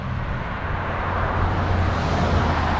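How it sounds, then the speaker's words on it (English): Steady low rumble of traffic on a nearby road outside a classic muscle car lot, a continuous roadway hum swelling slightly as a vehicle passes, with no speech. "And I apologize for the traffic noise."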